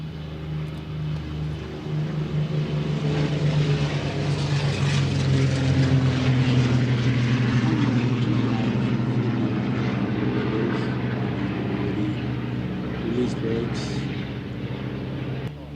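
Yak propeller warbirds on a hard runway at an airshow, a steady droning engine and airscrew roar holding loud and close throughout, with a slight swell in the middle.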